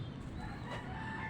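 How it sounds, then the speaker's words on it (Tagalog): A native rooster belonging to a family, crowing on a rooftop with steady background noise, the call faint and somewhat distant, lasting about a second. "Yan ang manok ng nanay ko. Native."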